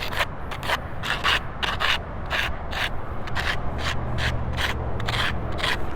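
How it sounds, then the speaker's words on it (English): Rhythmic sanding strokes on the edges of a model FV200 tank tail wing, a dozen or more quick close rasping passes in a steady back-and-forth rhythm. "All right, let's just sand it down."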